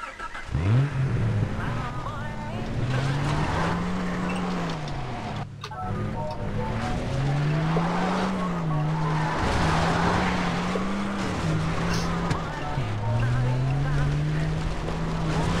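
A car drives in the video game Far Cry 3, its engine revving up and down in repeated rising and falling surges as it accelerates and shifts, loud and continuous under game sounds and some talk.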